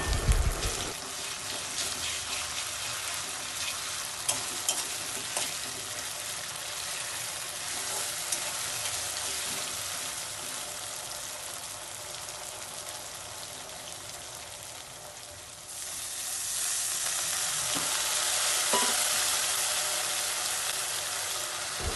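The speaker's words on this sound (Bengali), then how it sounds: "আদা রসুনের পেস্টটাকে দিয়ে দিলাম দিয়ে ভালো করে এটাকে নাড়াচাড়া করে নেবো" Continuous sizzling of ginger garlic paste frying in a hot pan, with occasional scraping stirs; the sizzle swells louder toward the end.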